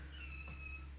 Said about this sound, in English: Oh, thank God it's only a cat.